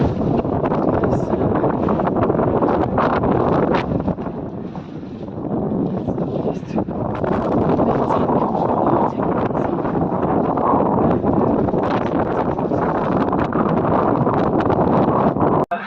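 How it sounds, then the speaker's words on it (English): Strong wind roars steadily across the microphone while a sailboat is sailed singlehanded under mainsail alone, broadband gusting rush with rustling and water noise, dipping briefly midway before returning at full force. "Challenging when there's so much wind."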